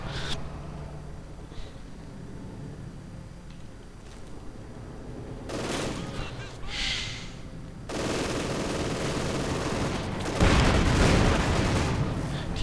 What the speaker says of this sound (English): And sector artillery Good uses right there from Alex and Sector Artillery.